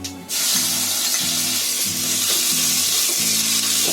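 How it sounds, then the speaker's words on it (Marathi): Cumin seeds and a pinch of asafoetida hit hot oil and crackle into a loud, continuous sizzle, with faint rhythmic low hums from the stove beneath and no talking. "तेल पण गरम मस्त झालाय. त्याच्यामध्ये आता जिरा टाकते. थोडासा जिरा आणि थोडासा चिमटीवर हिंग."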